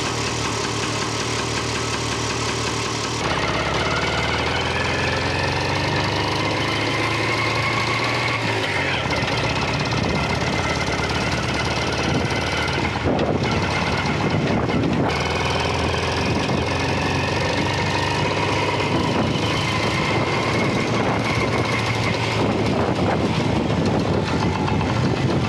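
A car engine runs after a head gasket repair, loud and close with a steady knocking, rattling idle throughout, while voices talk over it now and then.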